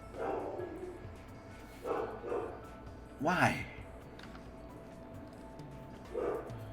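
A dog barks in short single yaps spaced out across the clip, fairly soft under a quiet background, with a brief spoken word in between.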